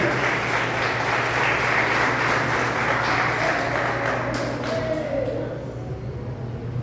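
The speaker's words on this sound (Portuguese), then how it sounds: "Pode exaltar o Senhor com palmas de alegria." A church congregation, standing, claps in praise: dense, even applause fills the room at moderate level for several seconds, then thins and fades slightly toward the end.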